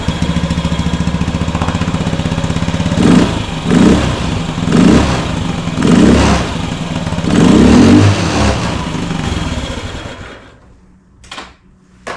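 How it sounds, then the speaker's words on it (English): Honda Metropolitan scooter engine idling with several short throttle blips rising in bursts, close and steady, then cutting off near the end with a couple of brief sharp noises afterward. "When I rev it up, I was able to put my hand behind here, and it felt like I had a decent amount of flow"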